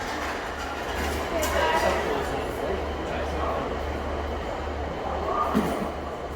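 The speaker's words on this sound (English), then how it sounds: "The train that came off, I think that's heading to Cardiff now." Train pulling away from Swansea station towards Cardiff, a steady low rumble with rail noise under platform ambience and faint voices.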